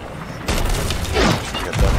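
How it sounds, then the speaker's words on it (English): Ship cannon fire booms in the pirate video game Sea of Thieves during a solo sloop battle against galleons, two heavy blasts landing about a second apart amid rumbling chaos. "The skins are shooting at us."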